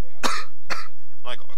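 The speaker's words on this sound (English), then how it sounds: "I got a cough." Two sharp coughs in quick succession, close and loud, followed by a brief throat-clearing rasp.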